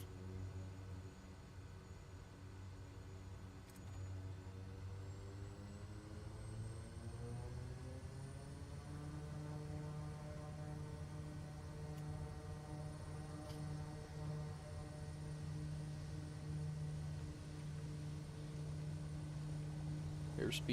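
Aircraft engine in MSFS 2020 held at full throttle for a takeoff roll, a steady loud drone with rising harmonic whine as speed builds, continuous throughout with no talk.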